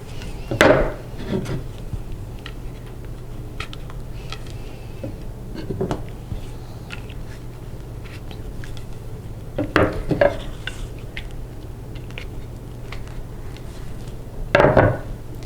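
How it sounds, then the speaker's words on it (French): End caps sliding onto wooden Lojan Flex Loom stand pieces during assembly, giving a few sharp wooden knocks and rubbing scrapes at scattered moments, close and fairly loud against a quiet room with a steady low hum. "c'est du côté où il n'y en a qu'un que vous allez glisser ces embouts"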